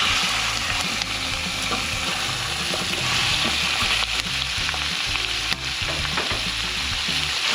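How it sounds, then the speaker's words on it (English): Chicken browning in a hot pan at a campsite on the Ningaloo Coast, frying with a steady, loud, dense sizzle and crackle throughout, with occasional stirring and no voices. "we've also got the chicken just browning off just to get a bit of colour into it"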